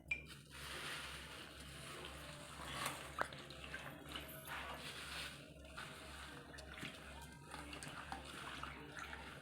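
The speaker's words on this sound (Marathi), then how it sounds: "ही मिठाच्या पाण्याने मी स्वच्छ धुवून घेतलेली आहे भाजी" Pumpkin leaves being washed by hand in a bowl of salted water, with steady sloshing and soft dripping splashes close by, continuous throughout and no talking.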